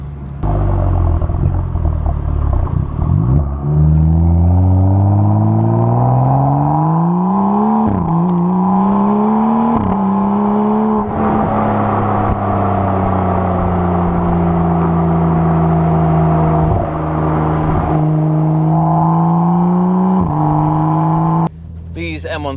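A modified BMW M135i engine revs loud and close, its pitch climbing and falling through repeated throttle sweeps with a deep rumbling exhaust note, then cuts off abruptly near the end.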